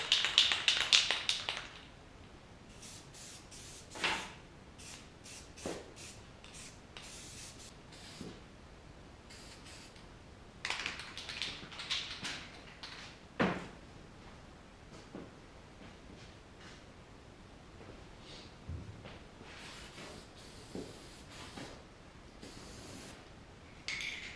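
Short bursts of an aerosol spray can coating a busted grille on a 1978 Squarebody C10 pickup in cheap matte black paint, with hissing puffs separated by pauses and occasional taps and rubbing, close by and without talk.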